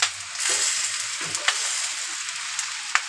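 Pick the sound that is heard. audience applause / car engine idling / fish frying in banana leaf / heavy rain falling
fish frying in banana leaf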